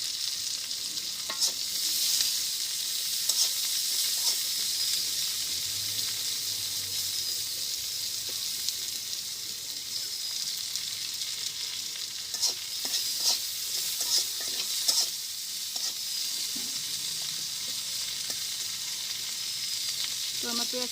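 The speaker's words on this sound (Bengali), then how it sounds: "তো আমার পেঁয়াজটা ভাজি হয়ে গেছে" Onion with salt and turmeric fries in a pan, a loud continuous sizzle and hiss broken by frequent scraping stirs throughout, no talk.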